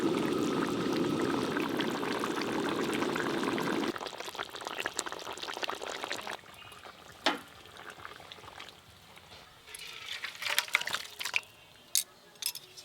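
A pot of curry boils openly with the lid off, a steady bubbling roar for several seconds that then thins into scattered pops, gurgles and soft clinks close by.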